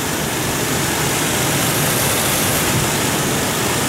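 A Ford 4.0L engine idles with a loud, steady broadband roar and hum, unbroken and close, without voices.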